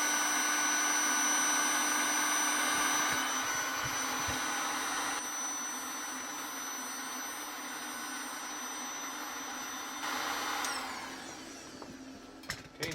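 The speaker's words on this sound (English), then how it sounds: "we're going to heat it up to around 70 degrees C with the heat gun" A heat gun blasts hot air onto a WSBS 8518-35 battery shunt resistor, a steady loud whirring roar that holds for most of the stretch before dropping slightly and tailing off near the end.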